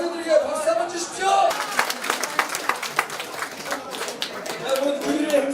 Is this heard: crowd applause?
yes